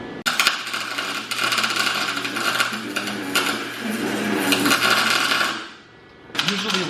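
Welding on a car differential crackles and pops loudly and almost continuously as spatter flies from contaminants, cutting out briefly near the end.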